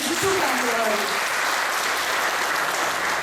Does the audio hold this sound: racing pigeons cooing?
no